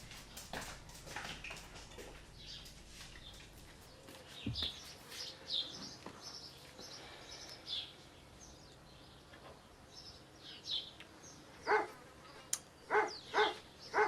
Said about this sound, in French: Bart, arrête d'aboyer. Ah, qu'est-ce qu'il a ce chien?